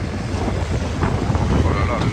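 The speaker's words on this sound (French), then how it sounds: "le vent" Strong wind buffets the microphone outdoors, a loud, continuous rumbling roar with gusty swells and no break.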